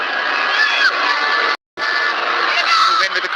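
A stadium crowd cheers loudly and continuously at a Nepali football match against Myanmar, a dense roar of voices broken by one brief cut, with no clear clapping standing out.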